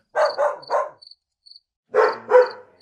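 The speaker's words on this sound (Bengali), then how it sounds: "খানিকটা দূরে একটা কুকুর কয়েকবার ডেকে চুপ করে গেল" A dog barks at night after a storm: a quick run of three barks, a pause with faint cricket chirps, then two more barks, fairly clear against a quiet background.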